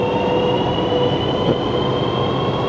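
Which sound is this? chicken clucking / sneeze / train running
train running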